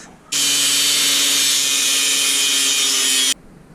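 Rapid power-tool sawing through wood to cut out an edge for a fridge mount in a school bus conversion, one loud continuous buzzing cut lasting about three seconds, starting and stopping abruptly.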